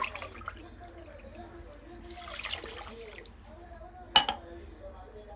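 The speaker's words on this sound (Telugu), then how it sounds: "దీంట్లో ఒక వాటర్ వచ్చేసి ఫోర్ గ్లాసెస్ అయితే యాడ్ చేసుకోవాలి" A short, soft splash of water being poured into sugar sits between quiet stretches of talking, followed by a sharp clink near the end.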